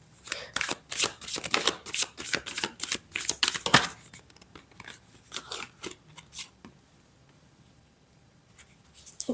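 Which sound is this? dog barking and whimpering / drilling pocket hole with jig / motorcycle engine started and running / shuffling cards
shuffling cards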